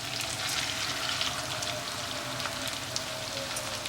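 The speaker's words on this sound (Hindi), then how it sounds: "दूसरी साइड से भी हम इसको फ्राई कर लेंगे।" Pieces of rohu fish shallow-frying in oil in a pan, giving a dense and continuous crackling sizzle that stays steady throughout, close up and with no talking.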